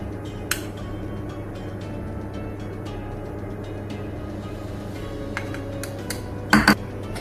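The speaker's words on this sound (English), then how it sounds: "Now I will mix it with honey." Crushed almonds, nuts and dates are stirred with honey in a bowl. Faint scraping and scattered soft ticks run under a steady background hum, ending in a pair of louder utensil clinks against the dish.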